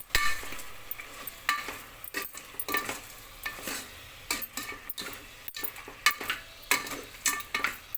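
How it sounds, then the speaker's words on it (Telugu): Goat eye-nerve curry being mixed with salt and chili in a pot, close irregular scraping and clinking strokes of a spoon against metal over a faint sizzle, with no voices. "ఒక్కసారి అయితే ఉప్పు కారం మొత్తం ముక్కలు పట్టేలాగా కలుపుకోవాలి"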